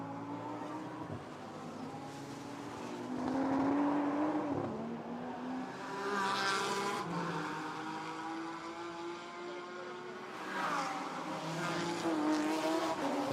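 An Audi GT4 race car engine roars during a street race at Vila Real in 2026, rising and falling through gear changes as it passes, loud with harmonic whine and no talk.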